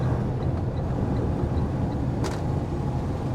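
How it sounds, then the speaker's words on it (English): Truck exhaust brake on the road: a continuous, heavy low rumble and roar from the engine, steady and close throughout. "Oh, I use my exhaust brake way too much."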